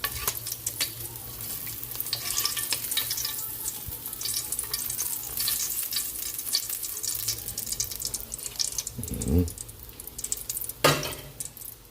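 Fish fries in a pan with a loud, continuous crackling sizzle, roughly steady throughout, broken near the end by a couple of sharper bursts and spatters, with no talking.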